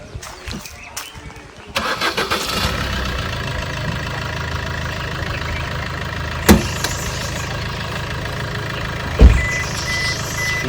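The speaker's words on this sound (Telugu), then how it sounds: "సింగిల్ సెల్ఫ్లో బండి స్టార్ట్ అవుతుంది." A 2018 Maruti S-Cross Alpha diesel catches on the first crank after a few clicks, then settles into a steady, close, gravelly idle, with a couple of sharp knocks standing out later.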